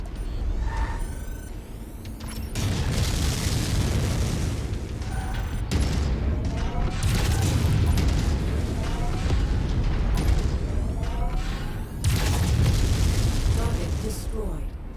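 Deep booming blasts and bursts of destruction from Mechwarrior 5: Mercenaries combat rumble almost without pause, loud and layered, with a voice talking over parts of it.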